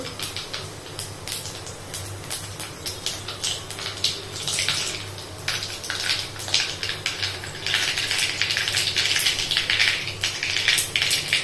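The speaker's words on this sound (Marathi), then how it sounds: "जिरा मोहरी छान तडतडू द्यायची" Cumin and mustard seeds splutter and pop in hot oil for a dry vegetable dish, giving steady close crackling over a low, constant kitchen hum.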